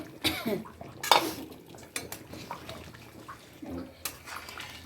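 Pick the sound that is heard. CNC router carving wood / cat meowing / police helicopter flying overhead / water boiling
water boiling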